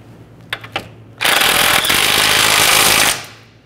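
On a Nissan Altima tie rod end, a tool tightens the mounting nut. A few sharp clicks are followed by a loud, continuous rattling burst of about two seconds, up close, which then fades out.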